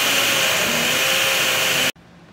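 A kitchen blender purees cooked beans and red chile for enfrijoladas, a loud steady whirring roar that cuts off abruptly near the end, leaving a low background hum.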